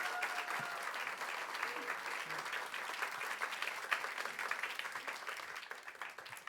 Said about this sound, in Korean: 우리 뜨거운 박수로 환영해 주시면 좋겠습니다